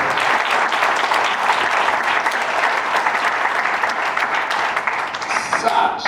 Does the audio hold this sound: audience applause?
yes